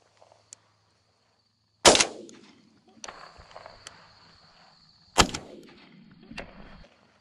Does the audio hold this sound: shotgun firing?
yes